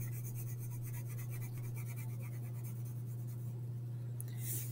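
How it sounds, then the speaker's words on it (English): A graphite pencil lightly shading inside a drawn cube on paper, making a soft, steady scratchy rubbing that runs continuously and close under a constant low background hum. "Barely touching the paper with my pencil."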